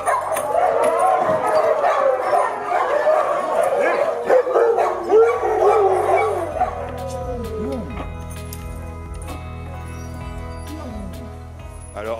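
Sled dogs in a farm kennel barking, yipping and howling in a loud overlapping chorus, fading to scattered howls and whines, with a person talking over the noise.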